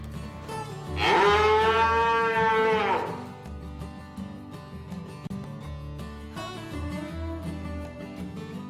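A cow gives one long, loud moo close by during handling, then quieter lowing follows over a low rumbling background.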